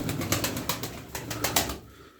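Tumbler pigeon, a female, cooing in a loft among other birds, a run of soft repeated coos with faint wing flutters, fairly close, no talking.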